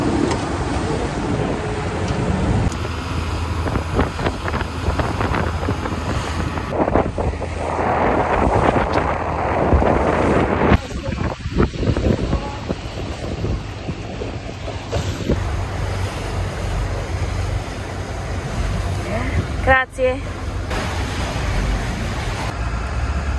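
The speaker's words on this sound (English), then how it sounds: "I'm going on a boat." Boat engine rumble and rushing water on the sea off Italy's Amalfi coast, with steady wind buffeting the microphone, continuous and loud throughout, with a brief sharp knock near the end.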